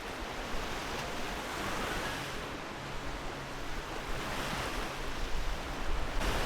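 Rough waves breaking on a sandy winter shore, a loud continuous wash of surf and wind noise with slow swells, no voices.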